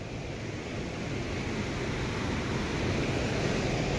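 A rain-swollen mountain stream runs full to its banks with muddy rainwater at a rainy campsite, giving a loud, steady, unbroken roar of rushing water from nearby with no voices.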